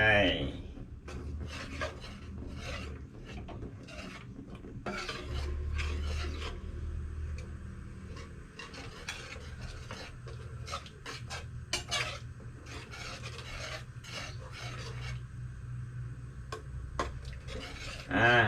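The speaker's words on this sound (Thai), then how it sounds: "เคี่ยวพริกแกงนะครับ กับกะทิให้มันเข้ากันนะครับ" Curry paste being stirred and simmered with coconut milk in a pot for grilled-fish curry with glass noodles, giving steady scraping, rasping utensil sounds against the pot with occasional clinks, under talk in Thai.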